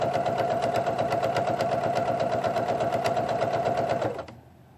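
A sewing machine stitches down a quilt strip, a fast steady mechanical whirring and rapid needle clatter that runs loudly for about four seconds, then abruptly stops.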